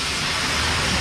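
Heavy downpour in the hills on the route to Kolli Malai with its 70 hairpin bends, a steady dense broadband hiss of rain filling the whole moment with no gaps and no voices.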